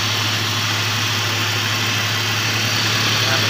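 An overheated Suzuki Liana car engine whose cooling fan is not running, idling close by with a steady low hum and constant mechanical whir, unbroken and with no talk.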